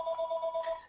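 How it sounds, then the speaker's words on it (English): A telephone rings once indoors during a business presentation, a short, bright electronic trill that quickly fades out. "I'm sorry about the phone, guys."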